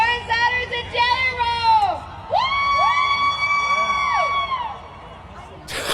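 A comedy-show audience cheers, whoops and shouts for departing performers, a lively crowd roar of rising and falling whoops that carries for several seconds before thinning out.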